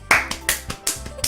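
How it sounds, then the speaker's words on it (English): A woman claps her hands, then slaps her lap, repeating the pattern as a string of sharp, close percussive hits in an uneven rhythm over about a second. "She's clapping her hands and then hitting her lap."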